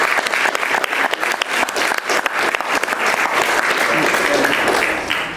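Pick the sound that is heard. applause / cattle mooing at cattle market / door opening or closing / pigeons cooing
applause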